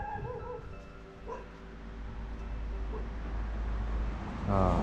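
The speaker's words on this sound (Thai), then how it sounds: "เดินก็อาจจะมีเสียงสุนัขเห่าได้นะเพื่อนๆก็ขออภัยด้วยนะครับ" A dog barks and yips at a quiet Thai temple, a few short calls early on, nearby and fairly clear over low background noise.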